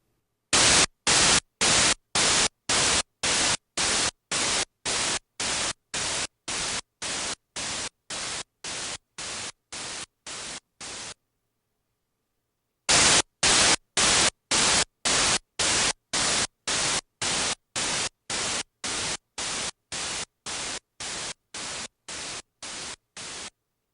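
Listening test track of white-noise bursts, two runs of about twenty short evenly spaced hissing pulses, each quieter than the one before, separated by a brief silence.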